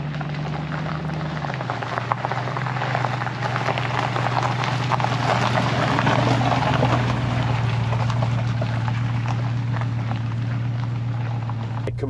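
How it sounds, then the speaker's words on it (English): A 4.0-litre Range Rover HSE P38A rolls along a potholed off-road forest track, with a steady low engine drone, a shift in engine note early on, and continuous crunching, rattling patter from tyres and suspension over the rough surface. "we're going to go down this potholed off-road forest track for a mile"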